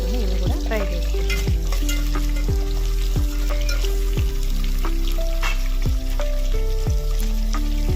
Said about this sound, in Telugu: ఆనియన్స్ చక్కగా ఫ్రై అయిన తర్వాత ఇప్పుడు వెజిటేబుల్స్ ముక్కలన్నీ అయితే దీంట్లో వేసుకుని ఇవి కూడా ఫ్రై చేసుకుంటాం